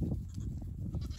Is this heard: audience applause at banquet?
no